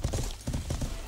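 Horse hooves clip-clopping in the medieval game Life Is Feudal, a quick steady run of close, loud hoofbeats in rhythmic clusters.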